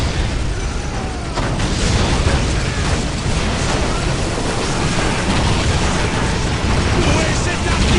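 Artillery shells explode without letup on a Dawn of War battlefield, a dense, roaring wall of blasts and rumble, with voices talking over it.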